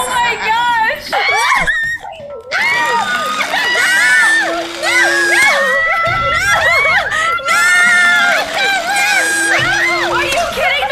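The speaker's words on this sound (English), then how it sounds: "Oh, we're cheering." A group of excited people cheer, scream and squeal in loud, overlapping bursts, with laughter and shouting voices rising and falling across the stretch.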